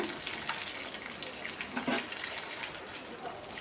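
A quarter kilo of chopped okra frying in a pan, giving a soft, steady sizzle and hiss with one brief louder crackle partway through, fairly quiet overall and with no talking.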